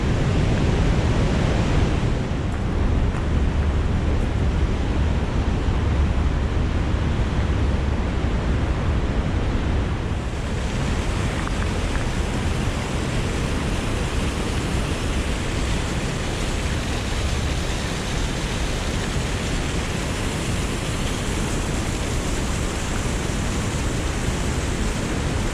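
Loud, steady rushing of river water, a continuous broad roar with no other sounds standing out.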